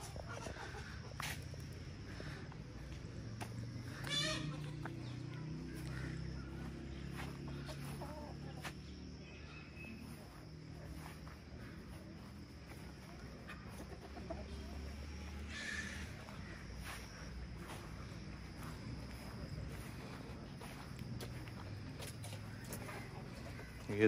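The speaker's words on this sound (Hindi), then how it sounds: "ये देखें देसी मुर्गियाँ" Desi chickens cluck on a farm house, soft and fairly distant, with occasional scattered calls over a steady outdoor background and faint voices.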